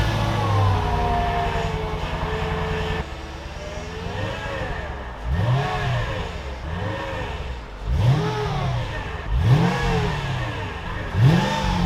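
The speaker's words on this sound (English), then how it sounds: "we should do a quick cold start just to see how it sounds right now" An engine cold-starts and revs on a car with a failing front power steering pump. A steady idle leads into repeated rising and falling revs, and a thin whine rides over the engine noise throughout.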